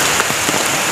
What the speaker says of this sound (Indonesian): walaupun ini hujan